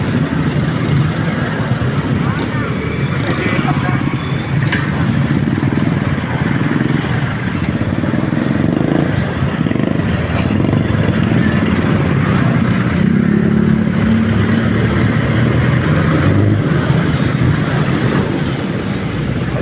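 Road traffic with cars and motorcycles rumbles steadily and loudly on a road near Calasiao, with engines droning close by for the whole stretch and no talking.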